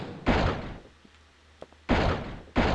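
A dinosaur pounds on a door in the Dino Crisis video game: three heavy, booming thuds, one, then a pause, then two close together, with quiet between.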